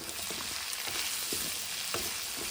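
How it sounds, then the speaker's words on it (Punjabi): Potatoes with onion, salt and turmeric fry in oil, giving a dense, steady sizzle with a few soft stirring knocks underneath, close up and without any talking. "ਤੇਲ ਦੇ ਵਿੱਚ ਜਦੋਂ ਹਲਦੀ ਤੇ ਲੂਣ ਭੁੰਨਿਆ ਜਾਊਗਾ"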